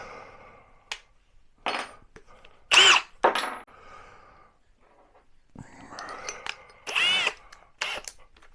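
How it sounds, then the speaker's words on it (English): A battery-powered drill fitted with a fresh battery runs in a workshop in several short bursts, whirring up and cutting off, with pauses and small clatters between, close and fairly loud. "Drill."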